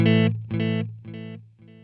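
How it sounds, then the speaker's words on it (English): Electric guitar through the analog delay of a LEKATO Tank-G effects pedal, reverb off: a single distorted note followed by three echo repeats, each softer and darker than the last, evenly spaced about half a second apart. "So that's a analog delay"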